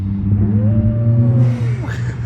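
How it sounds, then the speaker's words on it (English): A car engine revving with a rising, then falling whine of turbo spool, close and loud over a steady low rumble, with a rushing release at the end. "Ooh, turbo sounds."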